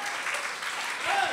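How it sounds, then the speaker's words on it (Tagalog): Church congregation applauding together, a brief dense burst of clapping heard close and fairly loud, with voices mixed in. "Palakpakan natin ang ating Panginoon."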